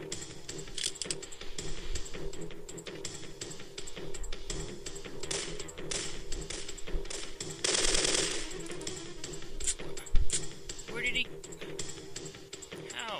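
Enemy gunfire crackles in rapid repeated shots throughout a Syphon Filter 3 video game scene, moderately loud and mixed with other game effects and a louder burst midway, while a player talks over it.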